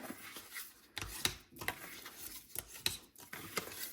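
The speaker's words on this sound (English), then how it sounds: "burnish, burnish, burnish" Paper being burnished by hand on a craft explosion box, heard as short, close rubbing and scraping strokes in an uneven rhythm, with no talking.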